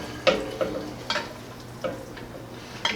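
Ingredients for stuffed bell peppers tossed into a pan, a few sharp clattering drops and sizzling stirs spaced irregularly over a low kitchen background, close and moderate in level.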